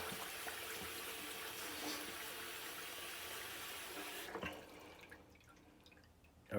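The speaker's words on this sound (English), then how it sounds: "Now I'm just going to wet my face." A tap runs steadily with a water stream splashing in a sink while a man wets his face before shaving, then the flow stops and only faint drips remain.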